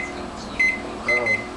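A microwave oven hums steadily at home, with a couple of short electronic beeps from its panel, close and fairly quiet.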